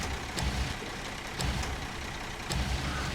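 A truck gets shoved backward in SnowRunner: a steady, dense engine and rolling rumble carries throughout, broken by three brief clunking bursts spaced about a second apart, with no talking.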